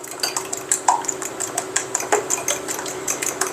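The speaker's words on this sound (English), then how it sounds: "I'm going to go ahead and put the evaporated milk in with the egg and whisk that together" A whisk clinks rapidly against a bowl as evaporated milk and egg are beaten together, a continuous close metallic tapping with no talk.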